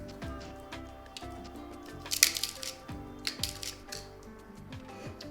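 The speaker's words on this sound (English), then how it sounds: "Then snap your cinnamon sticks in half and put them on top of the grounds." Cinnamon sticks snapped in half by hand over coffee grounds in a cafetière, several sharp, dry cracks and crunches in close succession, near and fairly crisp, with no talk.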